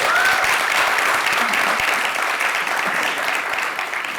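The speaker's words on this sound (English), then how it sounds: "Let's have a loud round of applause." A large audience at a music launch event breaks into loud, steady applause, a dense wash of clapping that holds for the whole stretch and eases slightly at the end.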